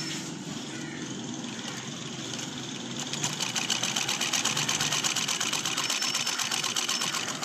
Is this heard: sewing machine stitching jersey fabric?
yes